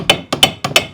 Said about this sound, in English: Let me try a little hammering and wiggling before cutting.